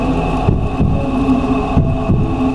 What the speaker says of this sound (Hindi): तभी फर्श के नीचे से एक हल्की सी धड़कन सुनाई दी, जैसी किसी की जिंदगी जमीन के अंदर कैद हो।